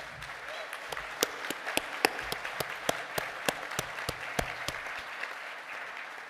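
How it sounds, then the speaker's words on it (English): Sparse, scattered clapping from a small audience at an academic event, distinct individual claps at a steady uneven rhythm, moderately quiet and close, with no one talking. "I think that deserves a round of applause"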